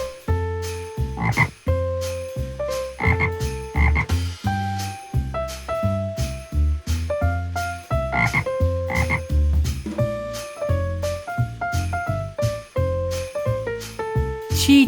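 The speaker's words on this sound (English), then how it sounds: "Frog." A frog croaks in repeated rhythmic bursts, loud and close, with tuneful tones running alongside the calls and no speech.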